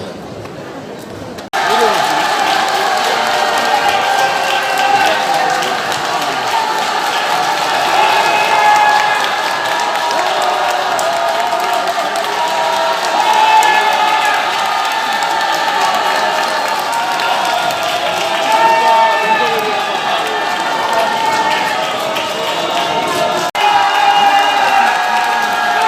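A large crowd at an outdoor press conference shouts and cheers continuously, a loud, dense wall of voices and clapping that holds steady for the whole span, with amplified speech mixed in.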